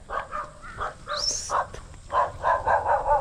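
A dog barks repeatedly in short bursts, moderately close, with a brief higher yelp partway through.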